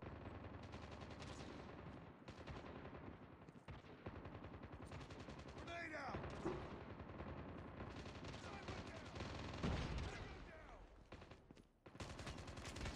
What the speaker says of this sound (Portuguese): eu gastei bala pra caramba ali atacando